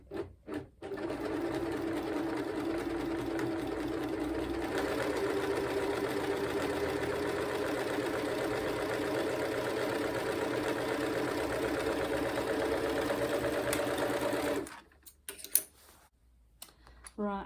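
An Elna overlocker stitches in one long, steady run, a fast even whirring chatter heard close and fairly quiet. It stops abruptly near the end, leaving a few small clicks and handling sounds.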